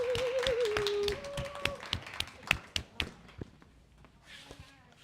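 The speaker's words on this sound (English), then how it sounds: "Please, please, give a round of applause to Joonas" Scattered audience clapping greets Joonas Hämäläinen taking the stage at a live AI talk event, sharp separate claps over a brief musical jingle that thin out and fade toward the end.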